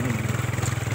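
A motorcycle engine runs steadily on a rough, bumpy road, a close pulsing low putter with a shaky rhythm.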